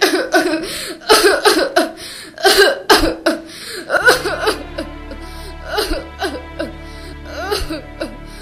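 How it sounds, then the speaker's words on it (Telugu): A woman coughs repeatedly in harsh, uneven bursts, mixed with strained vocal sounds; a steady tonal background hum enters partway through. "ఇప్పుడు చూడు ఎలా దగ్గుతున్నావు"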